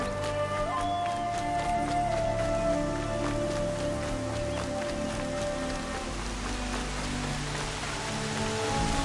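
Steady rain falls in a PS4 video game, a continuous hiss of drops on surfaces with soft sustained music tones underneath and no talking.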